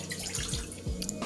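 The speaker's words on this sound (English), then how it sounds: "I'm going to pour 1 cup of water in here." One cup of water is poured into a saucepan for enchilada filling, a brief close splash and trickle with a few gurgling drops as the water lands in the pan.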